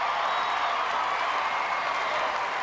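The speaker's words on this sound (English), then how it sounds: "Look, listen to the crowd." At the Westminster dog show, a large arena crowd applauds in a dense, sustained roar of clapping that stays loud and even throughout.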